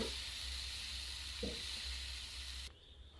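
Rava appam batter frying in a pan gives a soft, steady sizzle and hiss that cuts off abruptly near the end, quiet and close with no voices.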